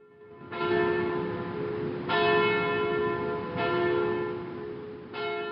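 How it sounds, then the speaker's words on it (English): A deep church bell tolls four slow, evenly spaced times, each stroke ringing on and overlapping the next, with no voices. "I heard the bell tolling somewhere in the distance"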